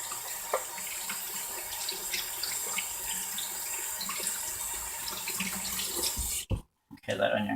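Soapy hands are rinsed under a running kitchen tap, a steady close hiss of flowing water that cuts off sharply near the end, followed by brief clatter.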